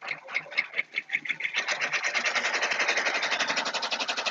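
An embroidery machine sews a placement stitch on a T-shirt appliqué, its needle chattering in a fast, even rhythm after a few slower, separate stitches at the start, close and clear.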